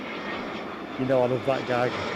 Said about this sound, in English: This EasyJet inbound from Basel